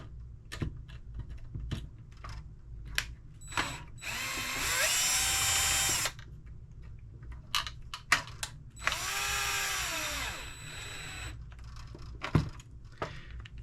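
A power drill tightens a fastener on the cage of a Losi Mini B late model RC car, two sustained whirring runs with rising pitch separated by small clicks and handling knocks, close and alone.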